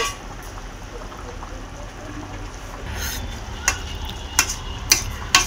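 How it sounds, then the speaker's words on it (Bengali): Fried rohu fish being added to a simmering potato and pointed gourd curry: a low bubbling hiss of the cooking pot with a few soft spoon taps and clicks toward the end, a voice talking over it. "এবার ভেজে রাখা মাছটা দিয়ে দিচ্ছি বন্ধুরা"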